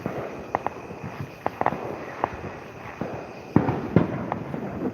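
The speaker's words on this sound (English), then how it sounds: "It's artillery shells somewhere." Distant fireworks shells bursting during a Fourth of July night, a series of sharp, separate booms at irregular intervals over a steady outdoor hiss, with two heavier, louder blasts near the end.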